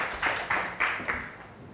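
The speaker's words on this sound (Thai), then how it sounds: "ปรบมือให้หัวหน้าหน่อยค่ะ" A classroom of students gives a short burst of applause for their class leader, a few quick rounds of clapping that fade within a couple of seconds.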